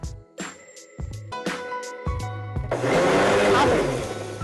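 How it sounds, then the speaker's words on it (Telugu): A mixer grinder whirring through chutney ingredients of tamarind, salt and garlic cloves for cucumber sesame pickle, starting and stopping in short bursts before one long, loud continuous run. "మిక్సీ పెట్టాలి"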